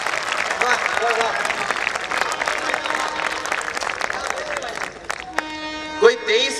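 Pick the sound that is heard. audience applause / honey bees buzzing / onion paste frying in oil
audience applause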